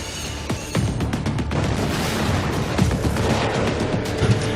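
Missile strikes in Zaporizhzhia, heard as a rapid series of blasts and sharp cracks, some near and some further off, crowding over a continuous din with no clear pauses.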